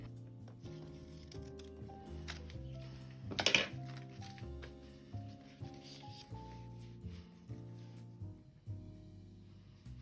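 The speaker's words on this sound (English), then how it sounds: "So I'm just gonna cut this out." Scissors snip around a paper drawing for a junk journal, close and quiet, in short irregular cuts with one louder crunching burst early on and soft rustling of paper between them.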